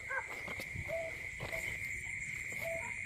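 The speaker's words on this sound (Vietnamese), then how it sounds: "cò cốt cũng còn kêu ở ngoài quá trời nghe anh em" Night birds (cò cốt) call outdoors during night bird trapping, with a few faint, short chirps scattered over a steady high insect drone and low background rumble.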